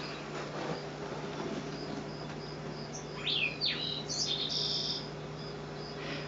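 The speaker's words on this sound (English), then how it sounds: "This is mostly birds, I guess." Recorded bird songs from a cat-entertainment DVD, with a few quick chirps and sharp whistled notes arriving in the second half over a steady hum and faint background hiss, without any talking.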